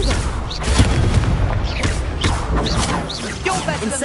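A Confringo fire spell detonates in Hogwarts Legacy on PS5: a loud, dense run of booming blasts and crashing impacts over continuous busy game sound.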